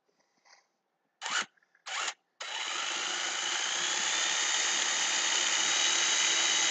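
A few short bursts from a power drill, then a long, steady high-pitched whine as it runs continuously driving screws into metal, close and loud.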